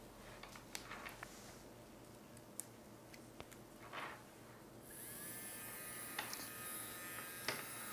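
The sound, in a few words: dental handpiece with blue finishing disc on mandrel, polishing composite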